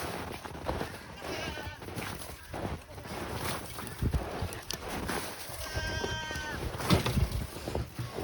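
A goat bleats a few times at close range on a snowy evening farm, with wavering harmonic cries around the middle of the stretch over a busy background of rustling and handling noise.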